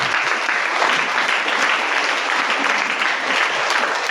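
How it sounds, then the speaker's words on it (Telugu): Loud, dense clapping from a congregation at a Sunday church service, a sustained roar of many hands at full strength from start to finish with no voices above it. "చప్పట్లు కొట్టండి గట్టి."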